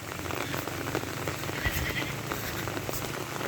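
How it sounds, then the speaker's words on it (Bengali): Heavy monsoon rain pours steadily and loudly, a dense continuous hiss of drops drumming on surfaces with no break. "এখনো বৃষ্টি হইতেছে, প্রচুর বৃষ্টি হইতেছে।"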